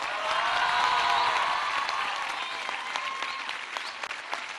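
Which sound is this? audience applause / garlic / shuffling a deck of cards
audience applause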